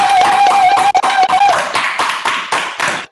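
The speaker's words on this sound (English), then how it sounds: "Please join me in clapping for this and for all other elements that you would like to include." Audience applause at a closing ceremony, a dense burst of clapping from a modest group, close and loud, gradually thinning into scattered claps as it fades near the end.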